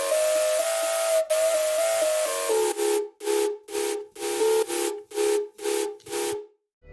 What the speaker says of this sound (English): we're gonna talk about the lead, which sounds like this